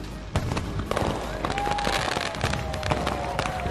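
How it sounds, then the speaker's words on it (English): A nighttime fireworks show at SeaWorld Orlando fills the air with dense, continuous crackling and booming bursts, loud and layered with occasional whistles, at the end of the park day. "There's still a fireworks show to enjoy."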